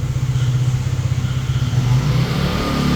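A Lambretta V125 scooter engine runs steadily up close as it rides out of a narrow lane, a low, even buzz with clattery texture that rises slightly in pitch near the end as it accelerates.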